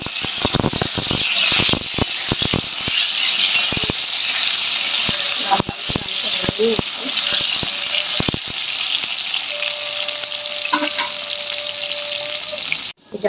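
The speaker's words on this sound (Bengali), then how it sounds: "সয়াবিনের আলুটা ভাজা বসিয়ে দিয়েছি" Potatoes frying in soybean oil in a home kitchen give off a steady, close sizzle with bubbling crackle throughout, sharp clicks and clatters of cookware cutting in, and a faint high whine near the end.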